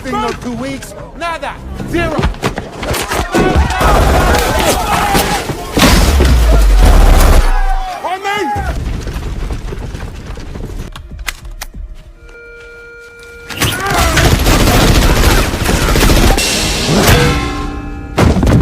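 Gunfire from a CIA assault in an action film scene, with loud booms, thuds and sharp bursts among dramatic music and effects, interrupted by a quieter stretch before the clamor resumes; no talk is heard.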